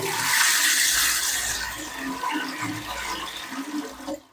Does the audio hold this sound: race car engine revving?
no